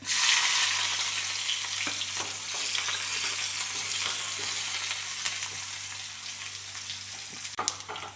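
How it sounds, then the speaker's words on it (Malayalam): Fenugreek seeds crackle in hot oil as sliced onions fry for a Kerala roasted-coconut sambar. The close, steady sizzle lasts throughout, with an occasional click from stirring and no voices. "ഉലുവ പൊട്ടി വരുന്നുണ്ട് നമ്മൾ സവാള ഇട്ട് കൊടുക്കാം"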